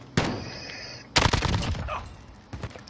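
Video game gunfire cracks out in sharp bursts, one short volley, a longer rattling string a second later, then a quieter distant pop, each loud and close with no talk over them.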